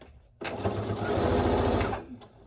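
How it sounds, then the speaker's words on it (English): A sewing machine stitches straight across quilt binding in one steady burst of about a second and a half, a close, even mechanical whir that starts abruptly and then winds down. "I'm going to go ahead and take my pin out and put the presser foot down, and I'm just going to sew straight across."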